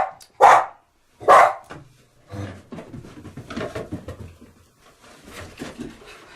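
A dog nearby gives two loud, sharp barks in quick succession, followed by someone speaking French.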